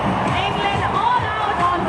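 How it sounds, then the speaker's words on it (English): Big cricket crowd at an India vs England one-day international in Hyderabad, sustained loud roar and cheering with babble from the stands throughout, no pauses. "And a big crowd here thoroughly enjoying this performance."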